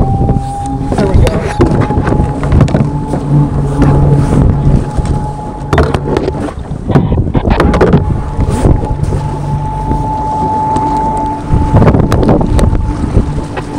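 A small boat running on a DIY electric outboard motor gives a steady whine and hum under heavy wind noise on the microphone, with water sounds and occasional voices.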